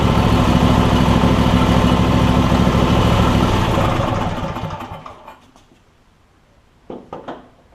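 A Briggs and Stratton engine on a John Deere E140 lawn tractor runs loud and steady nearby, then winds down and shuts off around halfway, leaving quiet with a few faint clunks.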